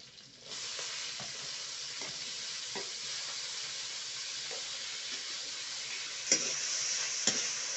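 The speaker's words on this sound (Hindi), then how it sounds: "प्याज और हरा मिर्च को अच्छा से भून लेते हैं।" Onion and green chili fry in a pan with a steady, close sizzling hiss, broken by a few soft stirring scrapes and taps.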